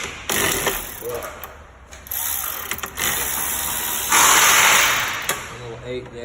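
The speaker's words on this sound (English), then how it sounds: "Little Milwaukee 1/4" ratchet" Small Milwaukee 1/4-inch ratchet clicking as it turns 8mm bolts near the radiator of a 2012 Chevy Sonic, quick ratcheting bursts close up with hissy background noise and brief gaps between strokes.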